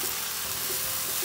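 Bean sprout bulgogi sizzles steadily in a pan as it is stirred, a dense, close frying hiss that runs without a break for a moment, with no voices.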